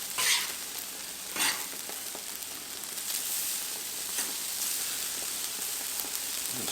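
Shrimp stir fry sizzles steadily on a Blackstone griddle with a loud, continuous frying hiss, broken by a few scraping stirs of a spatula, and no talking.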